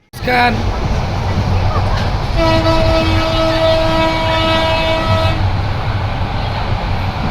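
A passenger train bound for Cox's Bazar rumbles loudly and steadily, with a sustained horn toot of about three seconds sounding over the noise partway through; voices can be heard alongside it.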